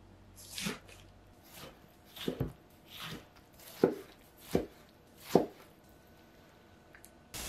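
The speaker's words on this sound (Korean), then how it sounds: "토마토도 작은 크기로 썰어 줄 거예요." Knife chopping tomatoes into small pieces on a board, about seven sharp, separate cuts at an uneven, unhurried pace, close and fairly quiet, with no talking.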